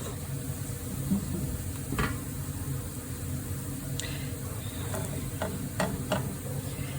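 Cauliflower added to cooked onions in a pan, a low steady sizzle with a few sharp scraping clicks from stirring, quiet and close.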